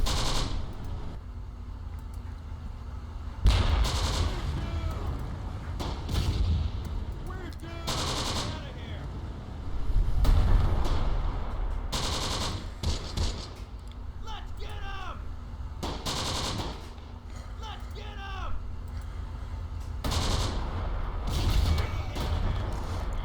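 Mortar blasts and gunfire in the WWII game Close Combat The Bloody First: heavy booms land at intervals among crackling rifle and machine-gun bursts, with occasional whistling shells, loud and continuous.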